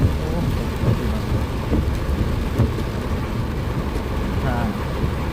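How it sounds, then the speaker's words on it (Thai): Heavy rain pounds a car in a thunderstorm while it is driven and stopped at a red light, a loud dense wash of downpour with low rumbling swells, and someone talks over it. "ฝนตกครับผม ฝนตกบักคักเลย"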